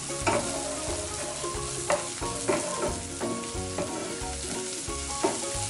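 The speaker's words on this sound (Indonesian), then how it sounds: "Aduk terus sampai harum." Onions frying in a pan for spaghetti carbonara, stirred with a utensil: repeated scraping strokes over a steady close sizzle, with a faint tonal hum underneath.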